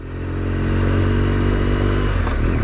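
A BMW R1200GS motorcycle pulls away from a workshop, its engine a loud, steady rumbling drone heard up close throughout.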